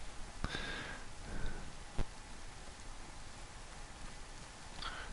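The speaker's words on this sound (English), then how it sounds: "And the rain is coming down." Rain falls steadily in the DayZ video game, a faint hissing wash with a few sharper drop-like ticks and soft breathy noises, no talking.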